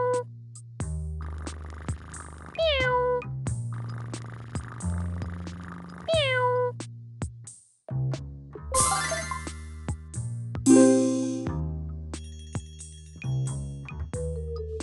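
Cartoon cats in an English-learning seesaw video game meow repeatedly in short, rising calls over a looping musical backing, with chimes and sparkly jingles near the end.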